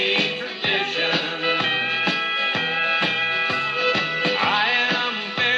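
Pedal steel guitar fills from a song ring out over a full country band, with sliding bright notes above a steady rhythmic pulse.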